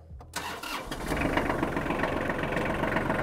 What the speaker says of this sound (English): Let me start the engine and show you that with the engine on.